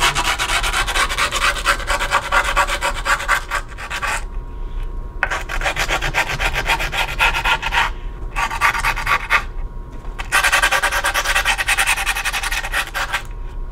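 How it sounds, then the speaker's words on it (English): Steady abrasive rubbing of sandpaper or a file around the outside edge of skateboard grip tape, loud and close, in long continuous strokes separated by short pauses. "Take our piece and we'll still get a good sand around the outside."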